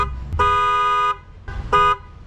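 A new Zapa horn fitted to a Suzuki Every Wagon sounds two loud, close blasts of about three-quarters of a second each, separated by a short pause.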